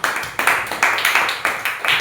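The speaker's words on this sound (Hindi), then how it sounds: "ताली बजाओ इसके लिए।" A small group claps in a quick rhythmic pattern for a number-system lesson, roughly a dozen close, bright claps in a steady beat with no talk over them.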